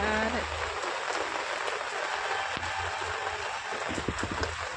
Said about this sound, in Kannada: ಮಳೆ ಜೋರಾಗಿ ಬರ್ತಾ ಇದೆ ಸುಮ್ಮನೆ ನೋಡ್ತಾ ನಿಂತಿದ್ದೀವಿ ಎಲ್ಲ